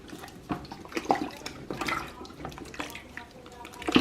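Shoes dipped into a pot of salted water for dyeing give uneven sloshing and splashing with a few gurgles, close by, under faint talk.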